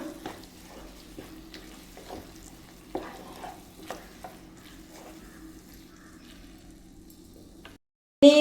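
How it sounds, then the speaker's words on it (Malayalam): Ground tomato pulp is stirred into chicken gravy frying in a pan, a low, even sizzle with occasional spoon taps and scrapes, then a brief silence before a sudden loud burst at the end. "അരച്ച് വെച്ച തക്കാളിയുടെ പൾപ്പ് കൂടെ ചേർത്ത് കൊടുക്കാം ചേർത്ത് കൊടുത്ത് നന്നായിട്ടൊന്ന് ഇളക്കണം"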